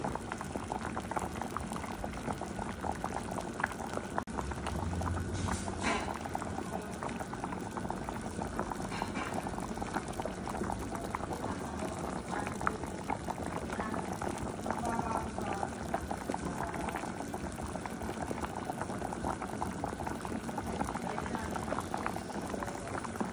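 Beef and cassava stew boiling in water in a pot gives a steady, close bubbling and simmering that runs without a break, with faint background voices now and then.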